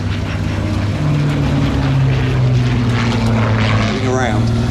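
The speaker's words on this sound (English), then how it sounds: "See the Spitfire again, coming from west to east." A Spitfire Mark 9 with a Merlin engine flies past at a tank show, a loud, sustained droning propeller roar with a slowly shifting pitch.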